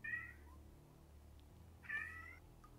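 A cat meows twice, about two seconds apart, fairly clear against a low background hum.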